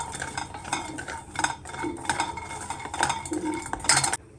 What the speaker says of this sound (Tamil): வால்நட்டை ரொம்ப ஃப்ரை பண்ண வேணாம், அதில் எண்ணெய் கசையும், அதனால் லைட்டாக சூடு பண்ணிக்கிட்டா போதும்.